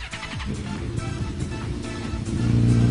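A man imitating a Suzuki 1000 motorcycle engine with his voice, a close buzzing rumble that builds steadily louder into a revving roar.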